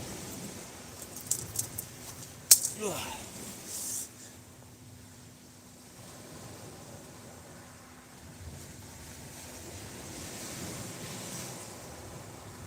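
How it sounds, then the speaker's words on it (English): Sea waves washing onto Eastbourne beach, a soft continuous surf that swells and recedes faintly, with a few sharp clicks and jangles near the start. "The sea sound is making my head nod"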